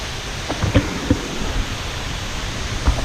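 Sungai Jerangkang waterfall in Pahang, a steady broadband rush of falling water filling the whole space, with a few faint knocks and splashes standing out briefly.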